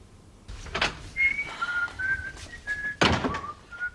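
A man whistles a tune indoors: a thin melody of clear sustained notes stepping up and down, close and moderately loud, with thumps of something being handled and a door-like knock in between.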